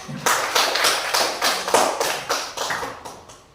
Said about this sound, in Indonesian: Tepuk tangan untuk si anak